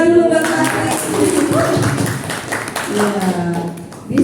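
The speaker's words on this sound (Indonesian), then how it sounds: "Tepuk tangan dulu buat Patrick." A workshop audience applauds Patrick during a public-speaking session. Scattered clapping sits under loud overlapping voices and laughter for several seconds.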